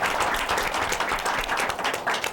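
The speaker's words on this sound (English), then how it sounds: "A round of applause for my manager" A live late-night comedy show audience breaks into dense, loud applause, a continuous wash of many hands clapping close and steady for a couple of seconds.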